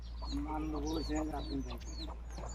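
Chickens clucking close by in short bursts in a tribal village, mixed with other birds and a person talking over a steady low hum.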